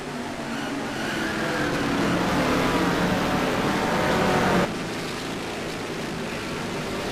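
Historic Chevrolet race cars roar past in a close race, a dense, loud continuous engine and tyre wash that drops slightly in level partway through, with no voices over it.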